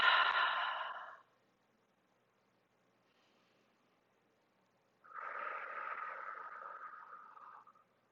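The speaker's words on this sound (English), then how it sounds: "take that deep breath in" Two slow, breathy exhales during a yoga practice, close and soft, with a long quiet gap between them; the second one is a drawn-out, steady release of air.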